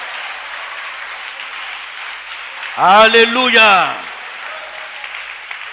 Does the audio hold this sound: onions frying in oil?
no